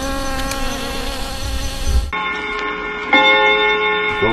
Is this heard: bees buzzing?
yes